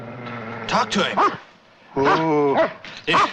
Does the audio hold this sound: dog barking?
yes